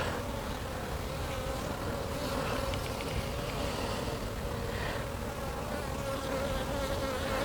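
Honey bees swarm around an opened hive in a dense, continuous buzzing drone that fills the whole stretch, close and steady, with no talking.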